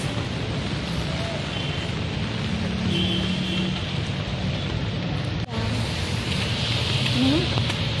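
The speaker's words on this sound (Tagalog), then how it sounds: "Wala nang tigil ang ulan." Steady rain hisses throughout on rice terraces, with people talking quietly beneath it and a brief knock partway through.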